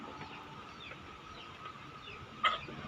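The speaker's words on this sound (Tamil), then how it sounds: "இதுதான் கருங்கோழி." A single short cluck from a black chicken (karungozhi breed) rises briefly over a steady, murmuring outdoor background with no voices.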